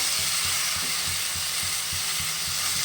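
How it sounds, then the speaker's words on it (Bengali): Pumpkin greens paste (shak bata) frying in a pan with turmeric and a little sugar, a steady broadband sizzle with faint rhythmic stirring scrapes underneath, close and continuous with no talking. "একদম ভাজা ভাজা হবে সুন্দর শাক বাটা"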